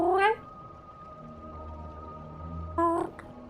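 A person imitates a trilled cat meow, giving a rising warbled call at the start and a second short trilling call near the end, loud and close, with quiet room tone between.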